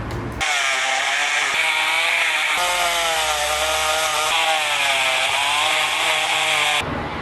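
Burr bit grinding aluminium on a motorcycle swing arm, a loud steady high-pitched whine with a harsh rasping edge, running continuously for about six seconds between abrupt starts and stops, with no talking.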